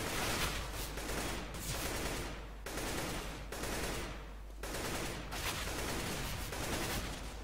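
Gunfire in Counter-Strike: Global Offensive, sustained rapid automatic bursts that run almost continuously for several seconds, loud and close, broken by a few short pauses, with no talk over it.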